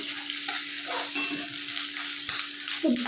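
Mixed vegetables, including peas, capsicum, papaya, carrot, potato and beans, frying in a pan for khichdi: a close steady sizzle under a faint tonal hum, with a few spatula scrapes and clinks and no voices.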